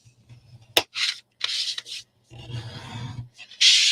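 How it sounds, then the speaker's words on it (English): Card box flaps being burnished, heard as short, close rubbing strokes in separate bursts with a sharp click and brief pauses between them, and no talk. "burnish those flaps so they're nice and sharp"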